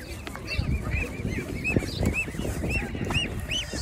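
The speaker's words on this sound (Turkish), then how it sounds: "Ne kadar abi bu kaz civcivleri?" Many goose goslings peep in high, repeated chirps over a busy background of murmuring and shuffling at a crowded poultry market in Ankara.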